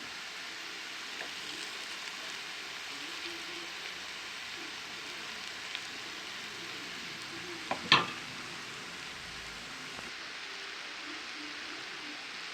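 Potato piyaju fritters fry in a pan crowded with hot oil, a steady crackling sizzle throughout with one sharper clatter partway through, no voices.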